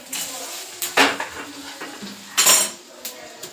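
A spoon stirs chickpeas in a cooking pot, giving a few separate scraping clinks and knocks with quiet gaps between them, close by and moderately loud, with no voices.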